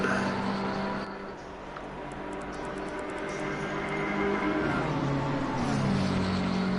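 Race cars in Assetto Corsa Competizione roar past at Imola, with steady engine drone that builds and shifts pitch as the cars approach and sweep by.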